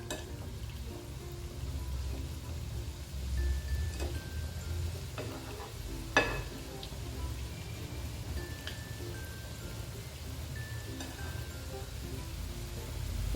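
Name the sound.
boondi batter frying in hot oil through sieve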